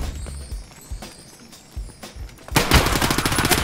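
Gunfire in Escape from Tarkov co-op play, a few scattered shots and then a sharp loud burst of rapid fire near the end, with footstep-like thumps between.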